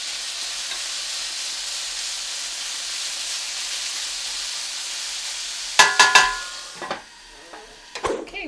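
Bacon and onions fry in a pan with a steady sizzle and hiss, then a few scrapes and clatters from stirring come near the end.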